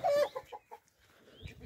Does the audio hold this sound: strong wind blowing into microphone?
no